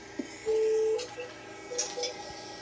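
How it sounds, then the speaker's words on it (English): A few short electronic keypad tones from a VoIP office phone beep faintly in the background, spaced unevenly, with a quiet room hum beneath. "you can hear the phone dialing in the background"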